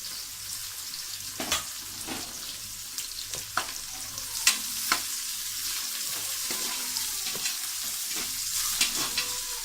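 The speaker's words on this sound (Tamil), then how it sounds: "அதுக்கப்புறம் எடுத்து வச்சுருக்க வெங்காயம், அந்த வெங்காயத்தையும் போட்டு ஒரு 2 minutes" Onions frying in hot oil in a pressure cooker for chicken biryani, with a steady bright sizzle throughout and regular scraping clicks of a spoon stirring them, no voices.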